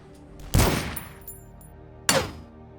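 Turret in the video game DUSK firing two loud, separate blasts about a second and a half apart, each with a sharp attack and a long decaying tail.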